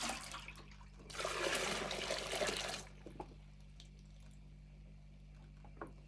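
Water pours for rinsing and cleaning while making beetroot schnapps, a brief steady splashing trickle lasting under two seconds before quieting to a faint background hum with small clicks.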